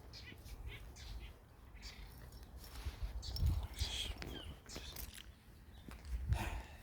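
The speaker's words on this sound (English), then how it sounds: "It's nice to just hear the birds" Faint birds chirp sporadically from the undergrowth, with soft rustling and footsteps close by in a quiet outdoor setting.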